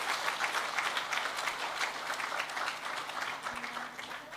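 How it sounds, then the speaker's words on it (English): Sustained audience applause for a technology panel as the panelists walk onto a conference stage, a steady wash of many hands clapping at even loudness throughout. "Please give our panel a round of applause as they make their way to the stage."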